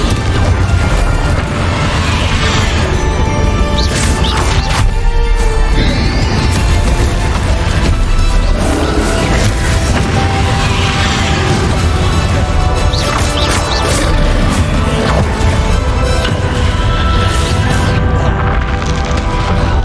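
Confringo fire blast spells explode in the Hogwarts Legacy video game as a dense, loud, continuous barrage of crashing, splintering blasts and booms with no letup.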